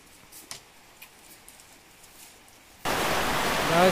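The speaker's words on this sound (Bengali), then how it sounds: "দেখতে পাচ্ছেন অনেক বৃষ্টি" Heavy rain falls in the hills near a hillside jhum farm hut, with a few quiet ticks and taps before a sudden loud, steady hiss of downpour takes over.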